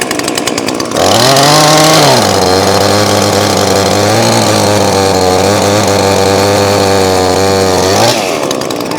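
A loud NEOTEC chainsaw roars close up, revving high and then holding a steady, heavy buzz as it cuts through an elm tree for several seconds.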